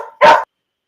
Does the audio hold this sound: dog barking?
yes